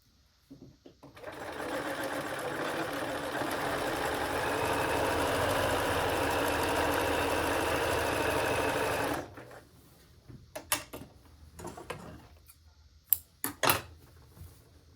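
A sewing machine stitches a robe for a marionette in one long, steady whirring run of about eight seconds, close and even, then stops, followed by scattered small handling clicks and taps.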